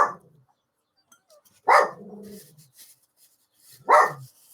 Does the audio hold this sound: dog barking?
yes